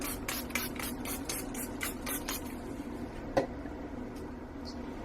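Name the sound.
spraying alcohol onto soap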